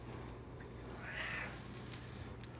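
A cat gives a single soft meow in a quiet indoor room, faint and brief, with no one talking.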